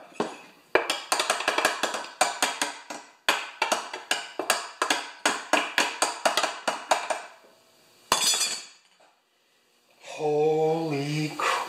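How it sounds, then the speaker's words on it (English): A ball peen hammer strikes a rusted-on metal mower blade adaptor in a rapid, close, ringing volley of metallic blows. After a brief pause a single final strike lands, and a voice speaks at the end. "What about the old ball peen hammer, eh?"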